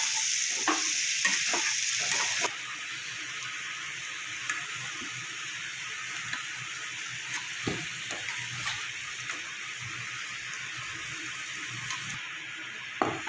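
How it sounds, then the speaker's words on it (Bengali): Potato pieces frying in a pan with salt and turmeric, a continuous soft sizzle with scattered stirring scrapes and taps, close and moderately quiet, no talking. "আলুটাকে ভালো করে লাল করে আমি ভেজে নেব।"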